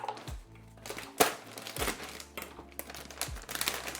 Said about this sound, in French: On va s'ouvrir un joli paquet.